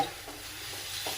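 Carrot halwa stirred and sautéed in a pan, a soft sizzle with a few brisk scraping strokes of a spoon, close up and brief.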